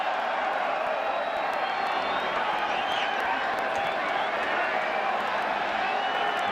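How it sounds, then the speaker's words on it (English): Stadium crowd at a 2017 Gold Cup football match between Jamaica and Mexico in Denver, a constant loud roar of cheering and clapping that fills the whole stretch, with a commentator's voice faintly over it. "Crowd cheering as the ball caroms into a trash can."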